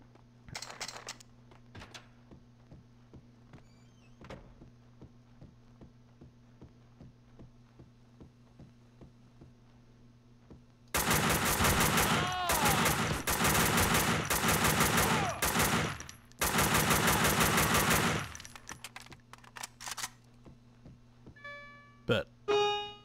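Automatic AK rifle fire in the video game Max Payne 2 comes in dense, loud, rapid bursts lasting several seconds over a faint background hum, followed by a few isolated sharp shots.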